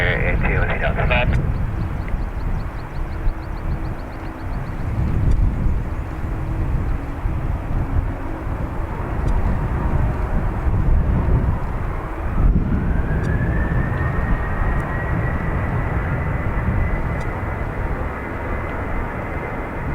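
A Ryanair airliner takes off at Dublin Airport. Loud, close jet roar fills the whole stretch, with a whine that climbs partway through. Radio chatter is heard at the start.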